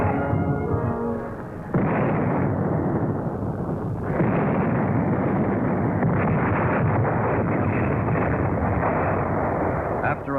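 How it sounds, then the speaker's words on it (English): A heavy artillery barrage at El Alamein in 1942 rumbles as a dense, continuous roar of overlapping blasts, loud and close, with no clear gaps between shots, from an old war film soundtrack. "After a heavy artillery barrage"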